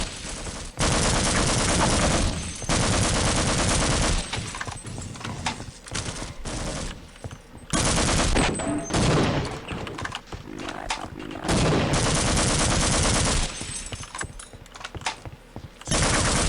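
Pistol gunfire from dual-wielded pistols in the video game Hunt Showdown, dense and loud bursts of shots filling most of the stretch with brief gaps between volleys, no talk.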